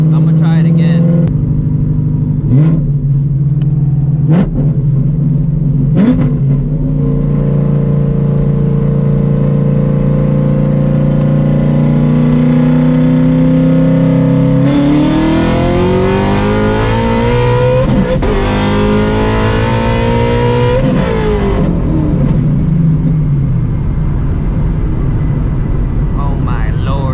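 A 900 hp Shelby GT350 with a built transmission pulls hard, its loud engine climbing steadily in pitch through long gears, with sharp shift hits early and a rising rev sweep later, all close to the microphone.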